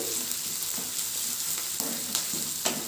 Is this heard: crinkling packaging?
no